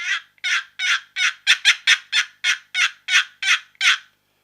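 A cherry box turkey call with a Purple Heart lid is worked to make a fast gobble, about a dozen loud, raspy, evenly spaced strokes close up, with nothing else in the background.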